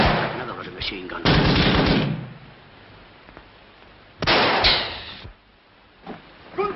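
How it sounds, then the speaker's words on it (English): Burst-like bangs of machine gun fire in a 1943 wartime naval film, coming in two loud clusters separated by quieter gaps, with a further short burst near the end. "Another ruddy machine gun."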